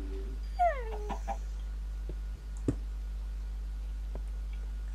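A chicken in the Minecraft video game gives a few short clucks early on, followed by sparse faint clicks over a steady low background hum.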